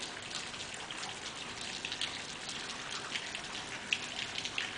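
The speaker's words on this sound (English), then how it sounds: "You can hear the water trickling down" Water trickles and drips down the rock in a canyon at Starved Rock, a faint, steady splashing patter with small scattered drops, heard alone.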